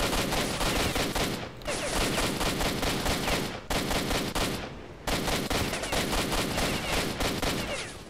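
Sustained automatic gunfire in S.T.A.L.K.E.R.: Shadow of Chernobyl, loud and close, in three long bursts of rapid shots separated by brief pauses where a magazine is emptied.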